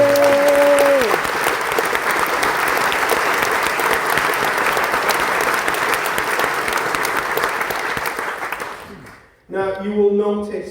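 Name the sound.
audience applause at brass band concert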